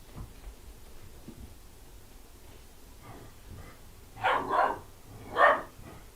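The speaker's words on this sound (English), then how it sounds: "Fluffy asked, whose dog is that with Carlene?" A dog barks in a short burst of two or three loud barks, followed by one more bark a second later, after a quiet stretch with soft background noise.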